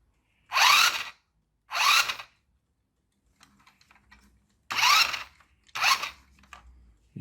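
A repaired Lightning McQueen RC toy motor whirs in four short, high-pitched bursts of about half a second each, close by, with faint clicks and handling noise between them.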